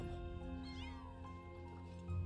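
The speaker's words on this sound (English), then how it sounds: "What is wrong with the little kittens?" A kitten meows in Final Fantasy VII Rebirth, one drawn-out, wavering cry heard close and clear over a low steady background.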